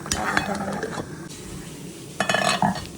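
Sylheti dried fish shira with pumpkin stirred in a pot, with close metallic scrapes and clinks of a spoon against the pot over a soft sizzle, in two short bursts separated by a pause.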